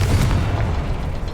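A Confringo explosive spell blast in Hogwarts Legacy goes off as a loud, close booming burst, its deep rumble carrying on for over a second with no voices.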